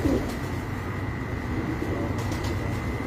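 Pigeons cooing on a rooftop in Oman: soft, low, repeated coos under a steady background hum, with no one talking.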